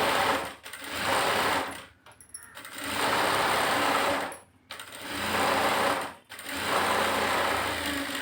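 A sewing machine runs in four steady bursts of fast, even stitching as a puff sleeve is sewn, each burst separated by a short pause and sounding close and loud.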